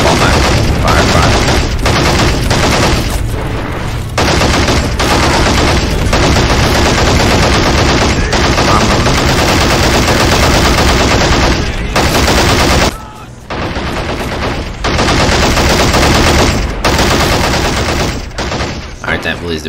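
Dense, loud gunfire from a Men of War battle at Tobruk, with continuous rattling bursts and booms of small arms and machine guns for nearly twenty seconds and only a brief lull near the end.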